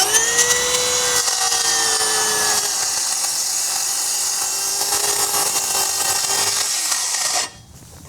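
Makita 10-1/4 inch cordless circular saw cutting through plastic, a loud continuous high whine with a steady blade tone lasting about seven seconds, then cutting off sharply as the cut finishes.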